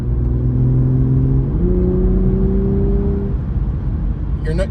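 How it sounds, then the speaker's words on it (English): A Toyota GR Supra with its exhaust valves open, running in normal mode, accelerates hard with some tire spin: a loud, steady engine drone whose pitch climbs in stages, ending with a brief hiss. "Do a little acceleration, spinning tire."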